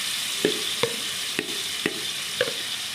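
Marinated beef pasanday frying in a pot give off a steady broadband sizzle, broken by about half a dozen sharp stirring clinks and scrapes at irregular intervals, close and moderately loud with no talking.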